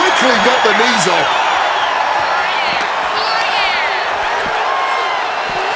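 A live arena crowd in the wrestling video game WWE 2K26 gives off a steady roar of cheering and whoops throughout, with a commentator's voice talking over it.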